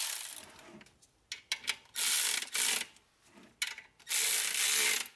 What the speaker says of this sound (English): So now we can tighten the bolts for the pressure plate.